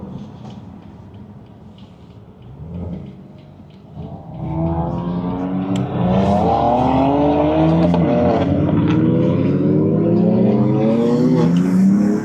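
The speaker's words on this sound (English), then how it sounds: "This is what we call a BMW Convoy." Several BMW cars in a convoy drive past with engines revving, starting quieter and swelling into a loud, sustained rising engine roar that stays close and dominant through the second half.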